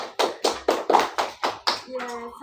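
A classroom of children claps hands in about six quick, even bursts, close and loud, followed by a brief tonal voice at the end.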